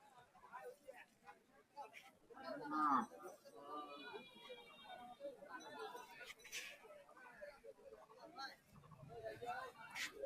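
Cows low now and then amid a crowded, noisy cattle market in Ramganj, Bangladesh, with people chattering nearby and the murmur of a busy crowd all around.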